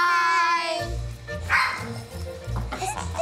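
Puppies at a doggy daycare bark and yip in short bursts, near and fairly loud, under and between the chatter of voices.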